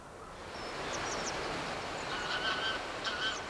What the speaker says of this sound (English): In the valley, the grey geese have come to feed.